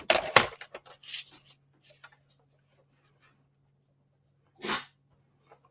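A single sharp sneeze bursts out near the mic during quiet paper-crafting work with a low steady hum, followed a few seconds later by a brief exclamation-like vocal burst; soft paper and tool handling sounds scatter around it.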